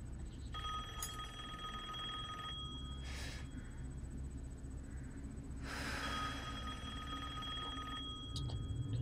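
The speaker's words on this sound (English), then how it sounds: "Answer the phone, lady!" A telephone rings in the Resident Evil Village video game, a faint electronic ring sustained beneath ambient game sound, punctuated by a couple of breathy bursts, with no talk over it.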